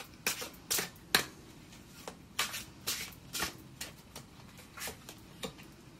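Tarot cards shuffled by hand in a quiet room, a string of sharp riffling slaps and snaps at an uneven pace, each burst short and close.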